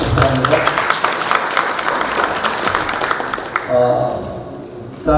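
Audience applause at a legislative public hearing held to enact a marine tourism promotion law, a dense wash of clapping that carries on steadily for several seconds before thinning near the end, with a voice speaking faintly underneath.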